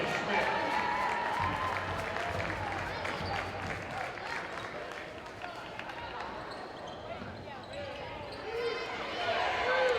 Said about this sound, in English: And the Norwich fans cheering here with 40 seconds to go.